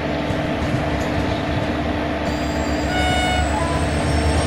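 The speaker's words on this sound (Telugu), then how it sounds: "ఓకే, ఆపోజిట్లో అయితే ట్రైన్ అయితే వస్తుంది గైస్." An Indian train approaches in the mobile game Trainz Simulator on a Himachal route, a steady mechanical rumble joined midway by thin, sustained tonal whines, with no talk over it.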